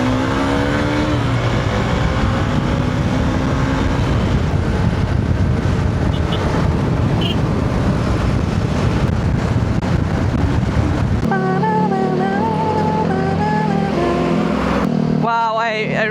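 A Hero Xpulse motorcycle rides along on a solo trip across the Philippines, its engine droning steadily under heavy wind rush that fills the whole stretch, with the engine tone shifting near the end.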